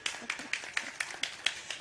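Audience applause comes through as steady, evenly spaced hand claps in a quick, regular rhythm, fairly faint and heard on their own without talk.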